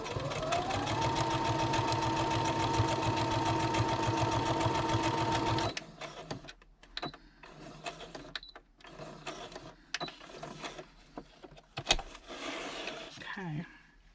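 A sewing machine runs steadily for several seconds, back stitching lace onto a traveller's notebook, then stops, followed by quieter handling clicks, rustles and a sharp knock.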